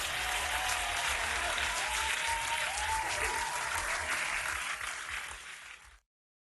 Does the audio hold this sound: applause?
yes